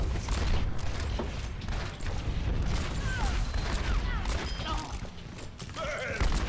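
Gunfire from the video game Overwatch during a competitive match, with dense bursts of rapid shots and impacts running steadily throughout, layered with game effects and chirps, while a player talks over the action.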